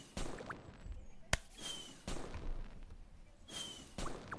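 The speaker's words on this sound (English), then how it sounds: "That's the first time I got those fireworks." Fireworks in the video game Maplestory 2 go off in several sharp, crackling bursts with whooshing tails, one especially crisp pop standing out amid the spaced explosions.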